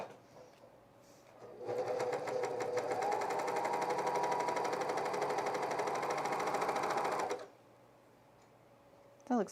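A sewing machine test-stitching with woolly nylon thread runs in one steady, loud, rapid burst of about six seconds, starting and stopping abruptly, with quiet room tone before and after.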